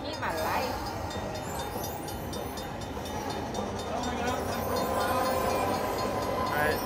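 Train sound effect from the Ultimate Fire Link slot machine game, a continuous rumbling rail clatter with rhythmic clicks and a steady mechanical drone, close and moderately loud amid casino-like electronic tones.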